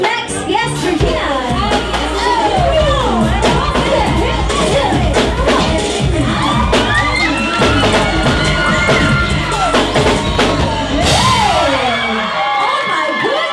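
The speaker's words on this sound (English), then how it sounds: "Please clap your hands for Carlos" A lively crowd at a birthday party cheers, shouts and whoops loudly with scattered claps and bangs, children's voices rising over the din throughout.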